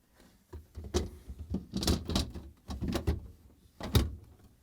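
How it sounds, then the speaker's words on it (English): A Samsung refrigerator's middle freezer door swinging shut, with a series of close thuds, clicks and rattles spread over a few seconds, ending in one firmer knock. "And now we can close the freezer door."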